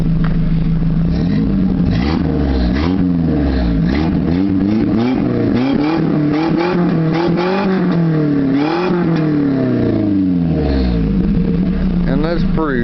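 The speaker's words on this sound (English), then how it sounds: "let me give it one good last rev here for y'all" A Nissan Hardbody truck engine with a Flowmaster exhaust and Edelbrock air cleaner revs hard several times with a deep, rumbling exhaust, pitch climbing and falling in surges, loud and close throughout.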